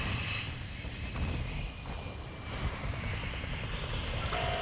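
An enemy VTOL jet in Call of Duty: Modern Warfare II passes overhead, a steady, dense engine roar and rumble filling the scene without a break.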